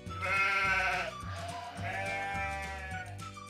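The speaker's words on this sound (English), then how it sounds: "And our last animal is a sheep." Toy sheep sounding a bleat: two long, wavering electronic bleats in a row, close and loud, with no talking over them.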